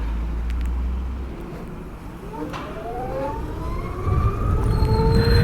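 BMW CE 02 electric scooter pulling away at full throttle from a traffic light, a rising electric motor whine climbing steadily in pitch over several seconds, with road and wind noise building beneath it.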